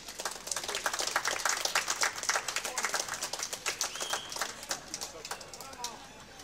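An audience at a village day festival applauds a traditional folk song group from Tarcal, steady dense clapping that swells and then tapers off, with a voice speaking over it.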